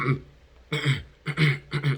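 Chickens with chronic respiratory disease give several short, raspy coughs in clusters with brief pauses between them, moderately loud and close, with no talking.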